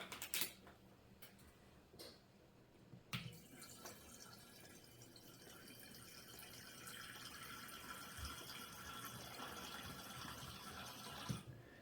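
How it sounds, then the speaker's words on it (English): Black Box red wine pours from a boxed-wine spout into a glass, a faint, steady liquid stream running for several seconds after a few soft clicks and drips. "It's pouring a lot"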